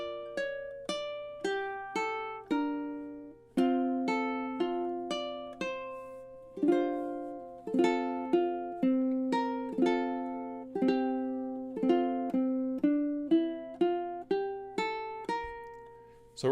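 Solo ukulele picks out the March of the Toreadors melody with finger and thumb picking, a steady run of bright plucked notes with ringing chords, close and clear with no talking.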